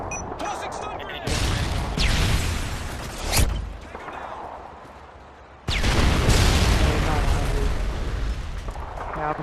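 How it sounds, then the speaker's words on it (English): A stun grenade goes off in a tactical shooter game, a loud broadband blast near the start and another heavy burst around the middle, with sustained ringing noise and game ambience continuing under occasional talk. "Tossing stun grenade."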